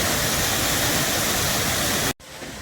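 Kapildhara waterfall on the Narmada river pours in a loud, steady broadband roar, close and continuous, before cutting off abruptly near the end.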